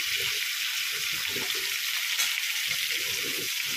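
Red chilli masala added to a hot pan of sautéed green and yellow ingredients, giving a steady, hissing sizzle with soft clatters of stirring and scraping throughout. Close and fairly quiet, with no voices.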